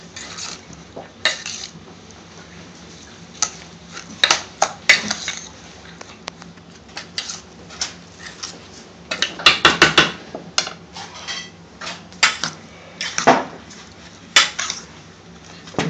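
Onion, cucumber and tomato salad with oil, mint sauce and coriander being mixed in a bowl: repeated clinks and scrapes of a utensil against dishware in uneven bursts, close and fairly loud.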